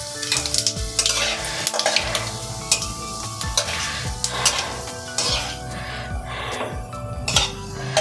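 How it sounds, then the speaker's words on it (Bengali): Dried red chillies and whole cumin seeds sizzle loudly in hot oil in a kadai for a vegetable chop filling, a dense continuous crackle close up, with occasional stirring clinks and scrapes throughout. "তেলটা গরম হয়ে গেছে, আমি শুকনো লঙ্কা দিয়ে দিচ্ছি। গোটা জিরে ফোড়নের জন্য দিয়ে দিচ্ছি।"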